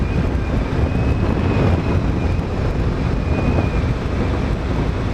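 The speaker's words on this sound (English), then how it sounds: "Very windy today." Steady wind buffeting the microphone, a loud continuous low rumble with gusty roar throughout, no voices.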